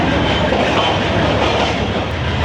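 Zikriya Express train pulling into platform number 2 at a railway station, a steady loud rumble of wheels and carriages rolling close by with faint clatter.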